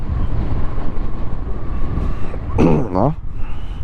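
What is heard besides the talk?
strong wind blowing during a motorcycle trip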